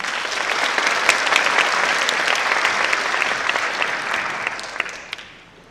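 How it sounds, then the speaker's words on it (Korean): Audience applause at an IT job fair ceremony welcoming a government vice minister to the stage, a full, steady wash of clapping that carries on for several seconds before fading out. "여러분 박수로 맞이해 주세요."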